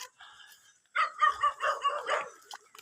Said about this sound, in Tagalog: Tatahulan ni mga aso namin.